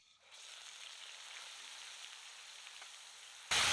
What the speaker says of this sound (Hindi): हम प्याज को 4 से 5 मिनट के लिए भून लेते हैं